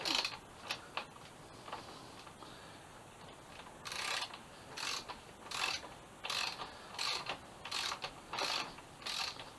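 A ratchet with a 19 mm socket adapter works the threaded front axle of a 2007 Suzuki GSX-R 750, giving short bursts of rapid clicking in a steady series of strokes, fairly close and fairly quiet, with no talk.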